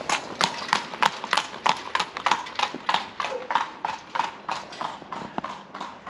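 A ridden horse walks past on a hard surface, its hooves clip-clopping in an even, steady rhythm of sharp, fairly close clops that carry on throughout.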